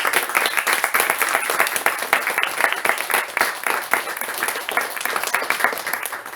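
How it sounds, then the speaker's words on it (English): An audience at a literary reading series applauds its hosts with steady, dense clapping from a room full of people, holding strong throughout and easing slightly toward the end. "Can we get a round of applause for them for hosting."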